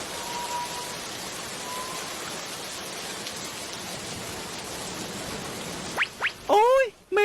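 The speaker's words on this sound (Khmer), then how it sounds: "អូយមេឃភ្លៀងដំបូលផ្ទះលេចហើយបងស្រី" Rain pours onto the roof of a leaking house in a steady, even hiss of drops that fills the room, then a voice speaks loudly near the end.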